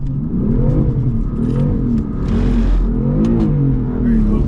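A BMW M4 on a wet, rainy day revs hard in second gear while sliding around a big circle, the engine note rising and falling in steady sweeps with tire hiss underneath, loud and close throughout.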